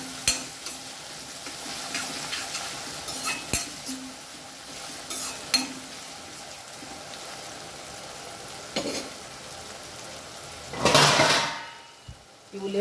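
Onions fry in a salted tempering in a pan with a soft, steady sizzle. Scattered scrapes and clinks come from stirring, and a brief louder sizzling burst rises near the end.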